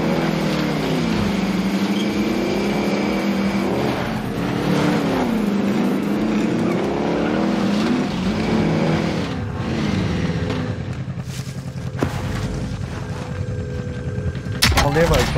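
Video game car engine droning steadily throughout, a loud continuous hum with rising and falling pitch sweeps as it accelerates, a few sharp bangs near the end, with voices talking over it.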